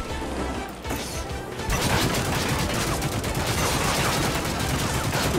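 Gunfire in the game Plastic Warfare, sparse at first and then a dense, steady burst of rapid shots like a machine gun, loud and close, with music and game noise under it.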